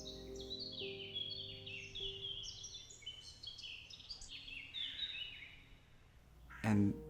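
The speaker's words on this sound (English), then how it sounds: "you can actually hear birds" Birds chirp and twitter in a quiet spot, a flurry of short bright calls at moderate distance over a hushed background, with a brief bump near the end.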